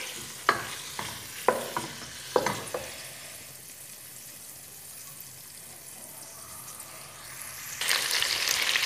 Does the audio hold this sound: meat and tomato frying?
yes